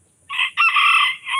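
A rooster crows once, close and loud, in a two-part cock-a-doodle-doo with a short opening note and a longer held call, alone against a quiet background.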